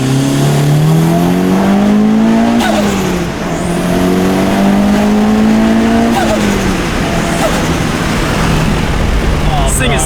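Mitsubishi EVO on low boost at 19 psi pulling hard through the gears, its engine note climbing steadily with sharp drops at each shift, loud and close from inside the cabin.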